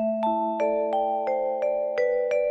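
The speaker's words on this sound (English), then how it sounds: "And the KSP vibe is nice." KSP vibraphone voice on a Yamaha keyboard sounds a run of seven soft mallet notes in a steady rhythm, mellow tones overlapping and sustaining beneath each new strike, close and alone.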